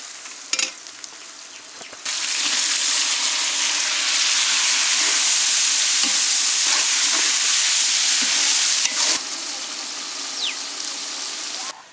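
Chopped tomatoes hit a hot pan of onions for biryani and fry with a loud, continuous sizzle, punctuated by occasional clinks and scrapes of stirring.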